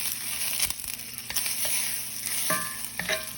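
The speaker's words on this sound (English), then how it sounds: "put a little more butter in the skillet for the eggs" Butter sizzles steadily in a skillet, heating for eggs for a bacon, egg and cheese breakfast sandwich, with a bright constant crackle and a few soft stirring clicks on top.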